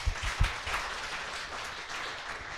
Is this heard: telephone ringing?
no